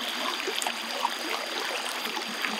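River water flowing in the Harapan rainforest, a continuous close rushing and trickling wash with small splashy accents, steady throughout with no voices.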